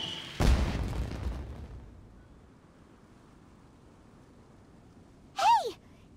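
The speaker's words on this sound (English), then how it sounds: "Did you hear that explosion?" A sudden loud video game explosion booms and rumbles away into a long low noisy tail, followed later by a brief bright swooping tone.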